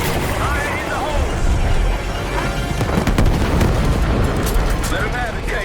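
Grenade explosion in the shooter Call of Duty Black Ops 6: a heavy, booming blast rolls out midway through loud battle noise, with voices talking over the din.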